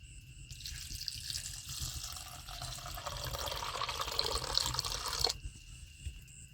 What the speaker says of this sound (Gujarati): હવે એમાં આપણે થોડુંક પાણી નાખી દઈએ।